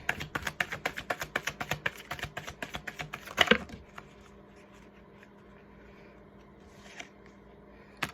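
Tarot cards shuffled in a rapid run of crisp riffling clicks and taps, ending in a sharper flurry as one card flies out, followed by a quiet room with a faint soft tap.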